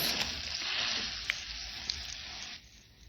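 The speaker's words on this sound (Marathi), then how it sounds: "आता आपल्याला खालची बाजू देखील छान खरपूस भाजून घ्यायची आहे" Chicken chili salami slices crisp in a hot pan, a soft steady sizzle and crackle with a couple of small pops before the frying quietens near the end; no one speaks.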